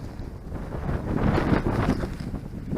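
Wind blows outdoors at an old gun battery site, roaring steadily into the microphone as loud, continuous buffeting with no voices.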